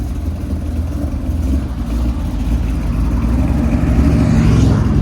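2015 Ford Mustang GT fitted with headers and a Corsa Xtreme exhaust, its deep V8 rumble loud and close, idling with a lumpy low burble and building slightly toward a rev near the end.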